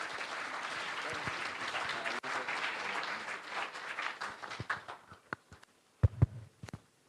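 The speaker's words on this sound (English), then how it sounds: "please let us give a very warm round of applause to the rapporteur and the moderator" A conference audience gives applause for the rapporteur and moderator, full clapping for several seconds that thins into scattered individual claps before fading to near silence.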